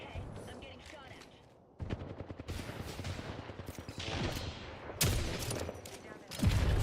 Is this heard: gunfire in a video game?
yes